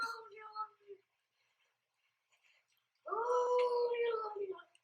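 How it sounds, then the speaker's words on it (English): A cat lets out a strange, drawn-out howling yowl that wavers like a ghostly moan. It comes in two bursts, a short one at the start and a longer, louder one after a pause of silence. "Why does cat sound like an old lady? Like a ghost."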